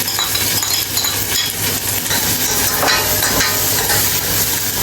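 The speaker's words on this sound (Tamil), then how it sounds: "அதுக்கு பிறகு வெங்காயம் போடுவேன்" Onions frying in a pan make a loud, dense, steady sizzle with occasional light metallic clinks, close by and without speech.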